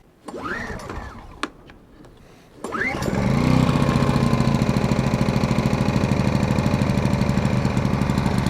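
An AIVOLT AGen1600c portable generator is pull-started on a cold camping morning: a few rope-pull rattles, then the small engine catches and runs at a loud, steady putter for the rest of the clip.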